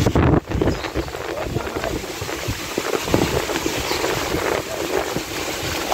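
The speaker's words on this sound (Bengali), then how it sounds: "বাতাস কমছে কমছে, বাতাস কম।" Strong wind gusting outdoors during rain, loud rushing buffets hitting the microphone continuously with a brief drop near the start.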